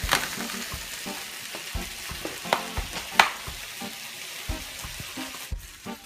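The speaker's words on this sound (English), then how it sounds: "we're still waiting for the turkey bacon to cook" Turkey bacon frying in a pan gives a steady close sizzle, with scattered pops and occasional clinks of a utensil stirring.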